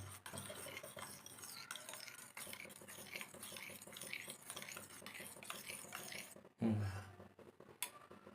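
Egg masala mixture being stirred after salt goes in, a utensil scraping and clinking steadily against a pan, with a louder knock near the end.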